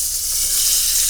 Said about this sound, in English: Ooh, more. See how that's going to color all of there. Sizzling.